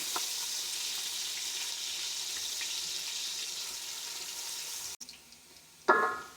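Onions sizzle and fry steadily to light brown in a pan for rajma lobia dal, with a constant crackling hiss, followed by a brief clatter and stirring near the end.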